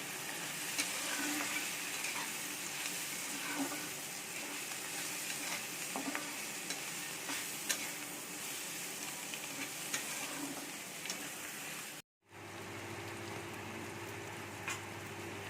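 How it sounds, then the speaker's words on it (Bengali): Small fish coated in spice paste frying in a pan for a Bengali chorchori, a loud steady sizzle with faint clicks of stirring, then a brief silence and a quieter, smoother frying hiss, with no speech. "এটাকে ভালো করে ফ্রাই করে নেব"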